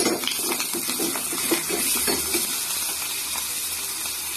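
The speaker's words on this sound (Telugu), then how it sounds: "కరివేపాకు కూడా వేసేసుకుందాం. చిట్పట్లు ఆడకపోతే పక్కన టేస్ట్ ఏముంటుంది కదా." Curry leaves crackle in hot tempering oil for dosa chutney, a close, steady sizzle with rapid little pops and spits that thin out slightly toward the end, with no talking.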